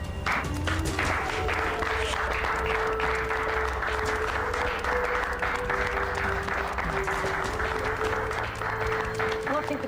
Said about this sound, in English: The greeting when I returned, of course, everyone clapped and had to show their appreciation